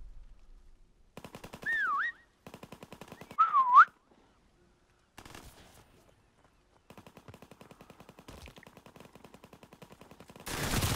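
Rapid bursts of automatic gunfire in Call of Duty WW2 Prop Hunt, sharp clattering volleys separated by brief silences, broken by a couple of whistled tones.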